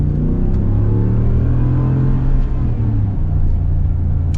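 A lifted Ram 1500 Longhorn pickup with air suspension accelerates hard, its engine a loud, deep, sustained roar that climbs through the revs and eases briefly around a shift before pulling on.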